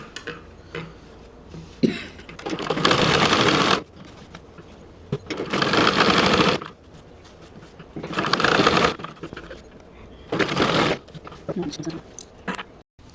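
A sewing machine stitches a simple blouse in four loud, whirring runs of a second or two each, separated by pauses where someone talks.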